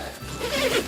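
A short, close pull of a big zipper on the vestibule door of a Hilleberg Tarra four-season tent, one brief rasping zip.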